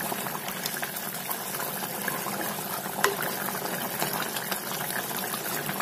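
A pot of sprouted fenugreek curry (vendhaya kuzhambu) bubbles and simmers steadily, a dense continuous boiling hiss with small pops, close and even throughout.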